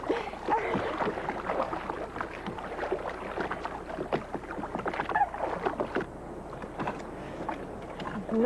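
A small dinghy rowboat moving on water, with continuous splashing and sloshing of oars and hull close by, steady throughout and no talking.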